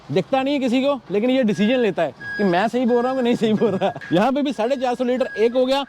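Reversing beeps from a Kenworth truck in Adelaide, Australia, sound as a steady tone repeating at intervals beneath someone talking continuously close to the microphone.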